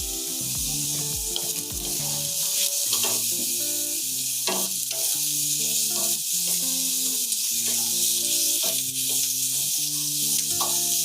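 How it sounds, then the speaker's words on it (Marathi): Onions frying in a pan until reddish for a paneer masala, with a steady close sizzle and hiss that carries on without pause under some tonal background sounds. "हे जरा तर चांगलाच भाजला पाहिजे कांदा, लालसर होईस्तोवर"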